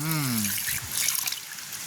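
Tap water trickling and splashing while snakehead fish pieces are washed at a village sink, running steadily at close range after a brief stretch of voice at the start.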